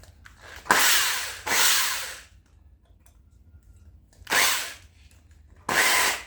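An old electric drill whirs loudly in four separate bursts, each lasting under a second, with quiet pauses between them, drilling into a BMW E30 M20B25 engine for a Helicoil repair.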